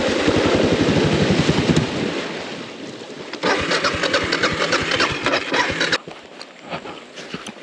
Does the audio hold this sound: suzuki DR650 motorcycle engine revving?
yes